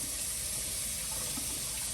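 Tap water runs steadily over a green pepper being washed, a continuous close hiss of flowing water with no pauses or talking.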